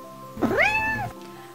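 A house cat lets out a single drawn-out meow, close and fairly loud, rising then falling before quiet returns.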